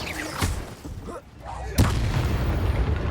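Spell casts in the video game Hogwarts Legacy: a sharp magical burst near the start and a louder booming blast midway, followed by a sustained rumbling rush, with a voice heard faintly.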